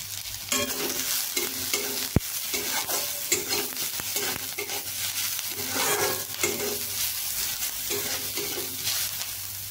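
A soya cutlet mixture is stirred in a frying pan, giving rhythmic scraping strokes at a steady pace over a continuous hiss of frying. The scraping is close and prominent, with no voices.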